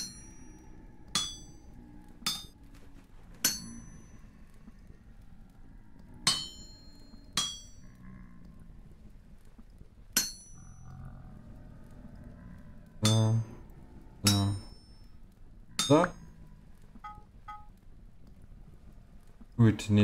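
A hammer strikes a copper plate during smithing in Vintage Story, giving about a dozen irregular metallic clangs with ringing overtones. A voice speaks softly beneath the strikes.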